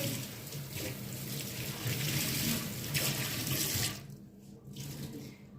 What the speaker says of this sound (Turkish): Şimdi bir kere daha durulayacağım